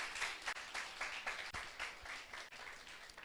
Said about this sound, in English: Please give me a big round of applause.